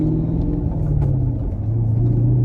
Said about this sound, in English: So clutch in, first gear, bring bite point, rev. And we don't roll back, and we're off.